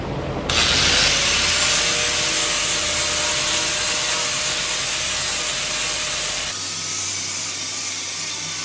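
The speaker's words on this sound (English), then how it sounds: "I'm going to finish sanding this and prepping it and getting it ready for a coat of epoxy primer" Sanding on a 1985 Jeep CJ7 body panel during prep for epoxy primer makes a loud, continuous abrasive rasp that begins abruptly, holds steady for about six seconds, then cuts to a quieter background hum.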